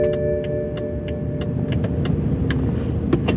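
A Mazda Miata's engine runs loudly and steadily close by, a rumbling idle-like drone with a faint whine, overlaid by sharp repeated clicks and ticks.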